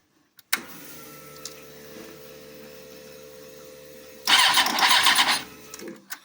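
A Suzuki GSX-R 600 motorcycle with a fuel supply fault, after a low background hum, suddenly cranks and fires into a loud, rough burst of engine noise for about a second and a half, then cuts out.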